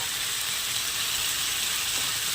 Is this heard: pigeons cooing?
no